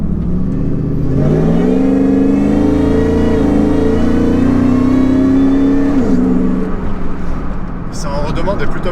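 Supercharged V8 of a Ford F150 Lightning pickup revving hard, a loud rising engine roar with supercharger whine that climbs, holds and then drops, with someone speaking over it.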